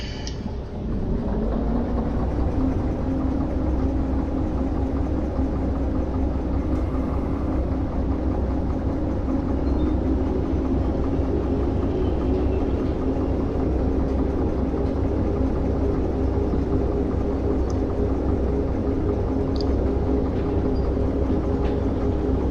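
A train locomotive in the Derail Valley simulation game runs steadily, a loud continuous low engine rumble and rolling drone that holds unbroken for over twenty seconds.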